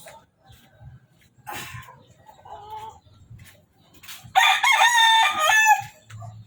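Chickens, including a rooster, clucking softly before one loud, close crow bursts out near the end, with quiet rustling between calls.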